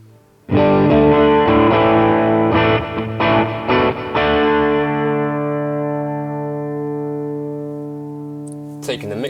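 An electric guitar through a NUX Amp Academy Stomp's Deluxe Reverb amp model rings out clean chords with a few quick strums, then lets a sustained chord decay with lush reverb, ending in a brief pick scrape.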